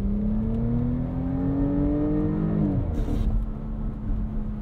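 A 2024 Porsche Cayenne base model, rated at 350 horsepower, accelerates in sport mode with manual shifting. The engine note rises steadily and strongly, then drops sharply at a gearshift and settles into a lower, steady drone inside the cabin, with no talking.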